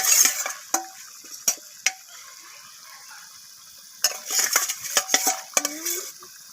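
Fried rohu fish pieces being added to a simmering masala gravy, sharp metallic clinks and scrapes of a utensil against the pan in short bursts, separated by quiet gaps.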